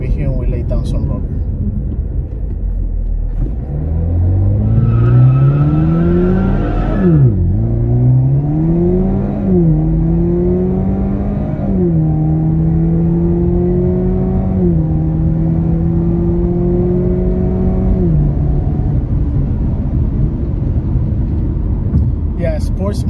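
A 2023 Chevrolet Camaro launches hard and lays down rubber, its engine revving up with rising pitch, dropping at each gear shift, then holding a sustained, loud drone as the car pulls away.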